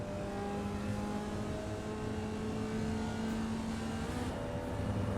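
A race car engine in the iRacing simulator drones steadily at sustained throttle, a continuous, moderately loud tone with no voices over it.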